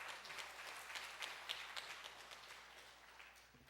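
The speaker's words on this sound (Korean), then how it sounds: "우리 환영하고 하나님 앞에 감사하는 박수로 우리 환영하도록 합니다" A Korean church audience claps in welcome for a visiting missionary, giving soft, steady applause that sounds faint and distant in the room.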